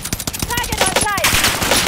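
Rapid bursts of automatic gunfire in Call of Duty: Modern Warfare Warzone resurgence duos crackle steadily and close, with a short in-game voice callout partway through.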